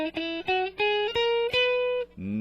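A major scale is played up on guitar, one clear sustained note after another, each with a crisp pluck, close and even in loudness, ending on a lower chord-like tone.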